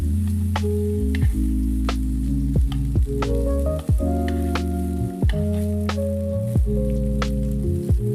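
Asparagus cooks in melted butter in a pan on a Nuwave One Top Pro induction cooktop, a loud steady sizzle layered with an electronic tonal hum that shifts pitch in repeated steps, occasional pops over it.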